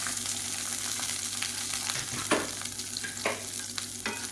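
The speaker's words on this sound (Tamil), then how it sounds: "இதில் ஒரு கைப்பிடி அளவுக்கு சின்ன வெங்காயம் கட் பண்ணதை சேர்த்துக்கலாம்." Chopped small shallots frying in hot oil for tempering, a steady close sizzle with a few sharp stirring scrapes and clicks of a spoon against the pan.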